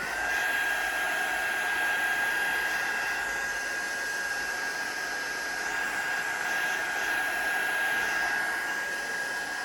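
A hair dryer runs steadily and loudly at close range, drying wet paint on a placemat, with an unbroken high whine and no pauses or talk.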